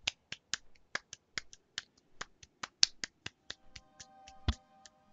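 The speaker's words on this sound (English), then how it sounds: "You ever seen the people that clap like this, but they do it like really fucking fast?" Rapid sharp claps or snaps, about twenty crisp hits in quick uneven succession, close and loud against a quiet background, with a faint tonal hum near the end.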